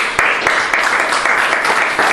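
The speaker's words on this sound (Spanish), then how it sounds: "Denle un aplauso al Señor," Church congregation clapping in a steady, dense burst of applause, fairly loud and close, with a few sharper claps standing out and a voice faintly present.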